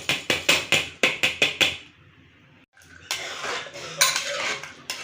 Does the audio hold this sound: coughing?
no